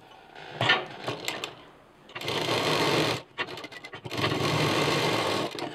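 A sewing machine stitches printed fabric for a small loop on a homemade backpack, two steady runs of about a second and nearly two seconds, close and fairly loud, after a few quiet clicks and handling sounds.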